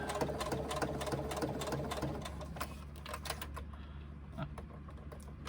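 A sewing machine stitches Pacifico vinyl in a quiet room, a rapid, steady mechanical clatter with a low motor hum underneath, easing slightly toward the end.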